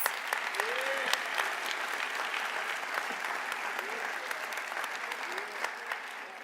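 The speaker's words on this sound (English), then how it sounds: "Let's give them a round of applause." Audience at a community college commencement ceremony giving faculty and staff a round of applause, sustained, even clapping from a large crowd filling a hall, with a few faint voices rising above it.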